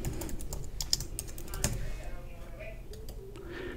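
Keys tap on a Mac keyboard, including return and delete presses, in a quick flurry of close clicks that thins out into a quieter hum.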